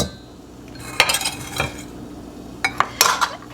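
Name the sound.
stirring lemon juice into lemon curd mixture in a pan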